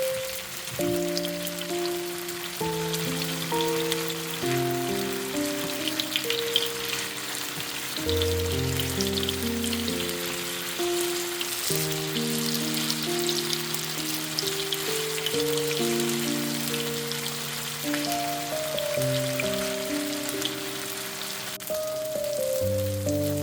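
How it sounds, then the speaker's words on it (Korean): Tofu pan-frying while being flipped until golden, a steady crackling sizzle running throughout beneath louder melodic background music. "두부를 뒤집어가며 노릇노릇 구워주세요."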